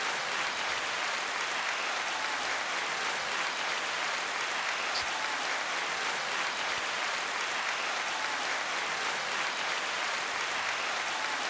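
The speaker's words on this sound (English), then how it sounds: "This is the crowd that really loves it." Sustained crowd applause in a large room, a dense, even wash of clapping that keeps going for many seconds at steady loudness with no voices.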